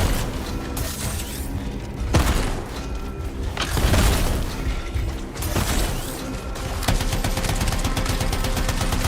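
Rapid bursts of gunfire from a mini shotgun weapon in the video game Anthem, loud and repeated amid dense mechanical game noise and layered combat effects.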